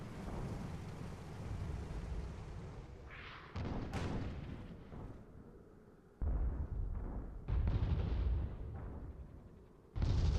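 Sniper fire in a video game match: a handful of heavy, booming shots burst out at irregular intervals over a low, rumbling battlefield background.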